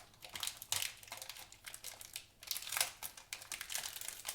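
Crinkly plastic foil of an NRL 2024 Traders Titanium trading card pack being torn and crumpled open up close, a run of sharp rustling bursts and crackles with brief pauses between them.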